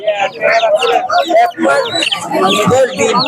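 Chickens and other fowl cluck and chirp at a close, busy market for local ducks and chickens, a dense mix of overlapping bird calls with people talking among them.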